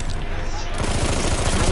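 Rapid gunfire from a gun in the video game Battlefield 1, sustained loud bursts of shots filling the moment, with a busy battlefield din beneath.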